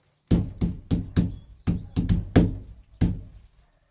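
Knuckles rap on a Peugeot Boxer van panel treated with DodoMat sound deadening, eight close, dull, solid knocks in an uneven rhythm, each thud short and damped with little ring.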